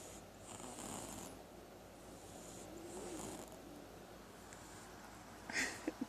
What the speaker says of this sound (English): Kitten snoring.